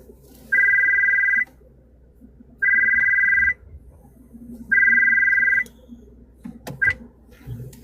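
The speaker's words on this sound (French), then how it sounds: "Il y a le téléphone qui sonne" A telephone rings three times in even, steady bursts about a second long, followed by a short fourth start, heard over a low, hum-filled phone-call background with faint noises.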